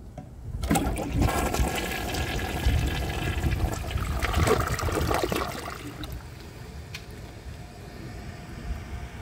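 A 1995 ADA Mansfield Alto toilet flushes with a sudden loud rush of water that churns steadily for several seconds, then tapers into a quieter refill trickle, close by and without talk.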